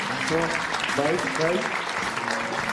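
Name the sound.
audience applause for a poet at a book fair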